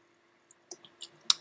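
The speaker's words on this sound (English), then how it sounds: "And then single click." A single computer mouse click while drawing an arc in SketchUp, heard as a few faint, sharp ticks close to the mic in a quiet room.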